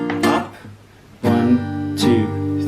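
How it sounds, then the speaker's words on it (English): A guitar plays a strumming pattern for BTS's Pied Piper: three ringing down strums spaced about a second apart, with chords sustaining between hits. The strums are close and clear, with no talk over them. "it's 1, 2, 3 down strums, and then you do a quick little up strum before you change the chord"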